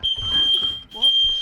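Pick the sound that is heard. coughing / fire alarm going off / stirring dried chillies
fire alarm going off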